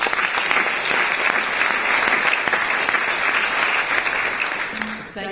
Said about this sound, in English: So let's give Mike a round of applause.